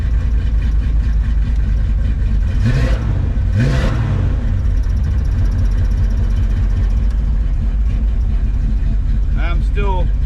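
A car engine fires up from a cold start after a brief crank, then settles into a loud, steady idle that runs throughout, with someone talking briefly over it.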